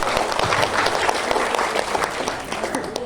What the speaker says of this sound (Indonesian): Kita beri tepuk tangan untuk panitia